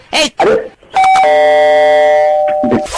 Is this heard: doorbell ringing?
yes